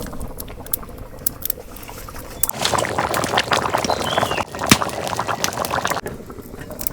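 A pot of pangas fish curry bubbles and spatters on the stove. Quieter patter gives way to a louder, dense boiling and splashing sound that runs on, close and steady.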